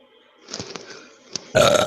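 A person lets out a loud, abrupt burp after drinking Pepsi, coming near the end after a few faint clicks and rustles in an otherwise quiet room.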